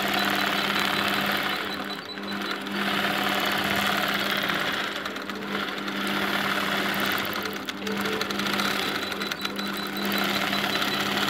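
A long arm quilting machine stitches a design into a quilt block with a loud, steady, close mechanical hum. The motor drone is continuous, and a fast needle rhythm pulses through it with slight surges.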